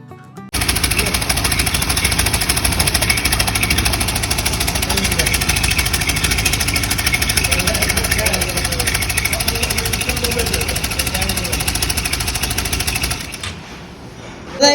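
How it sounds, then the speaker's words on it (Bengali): A motorcycle engine with a damaged cylinder head runs steadily and loudly with a harsh, rapid rattling knock, continuing close by for most of the clip before cutting off near the end. "চালানোর পরে তার হেডের যে সাউন্ড ছিল, সাউন্ডটা পুরোপুরি চেঞ্জ হয়ে গেছে"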